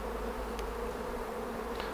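A calm honeybee colony at an allotment hive in summer, with a steady low buzzing drone from many bees close by and a couple of brief louder passes, no voices.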